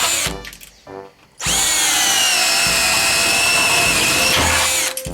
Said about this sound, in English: Then we're going to take a 1/2 inch spade bit and do the top hole and the bottom hole.